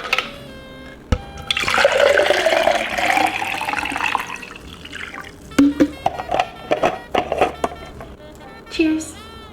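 Prime Sour Nova hydration drink, a coconut-water-based sports drink, pours into a cup with a loud gushing, bubbling stream followed by choppy splashes and trickles as the cup fills.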